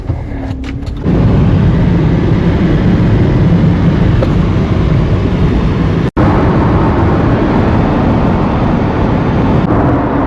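A car drives steadily on the road with a constant, fairly loud road and engine roar heard from inside the vehicle, cut by a brief dropout midway.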